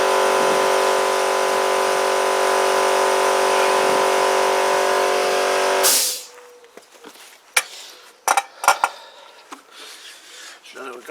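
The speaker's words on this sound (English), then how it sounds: "Sorry about the compressor." An air compressor in a workshop during scooter engine assembly drones with a loud, steady hum, then cuts off. Scattered clinks and handling knocks follow in the quiet.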